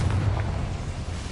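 A Confringo blasting spell in Hogwarts Legacy lands as a short, low rumbling blast that fills the moment, moderately loud with no talk over it.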